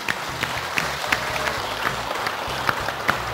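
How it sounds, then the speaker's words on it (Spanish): Sustained applause from a crowd at a dance show final in Córdoba, steady dense clapping with a few sharper claps standing out, continuing throughout. "Sostenido el aplauso,"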